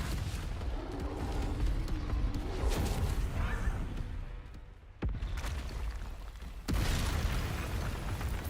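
Bombarda spell explosion in the Hogwarts Legacy video game during a fight near a village: a broad, rumbling blast with crackling debris, then a sudden loud burst near the end amid continuous battle noise.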